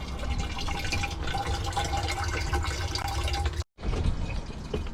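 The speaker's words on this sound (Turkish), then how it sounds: "Ama var ya su böyle ip gibi akıyor." Water pouring from a village fountain spout in a rustic outdoor setting: a continuous, loud, close splashing stream that briefly cuts out near the end and then resumes.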